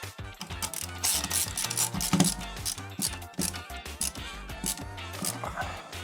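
Rapid ratcheting clicks of a screwdriver as screws are driven into a gaming PC case, a close, busy run of mechanical ticks and small metallic knocks.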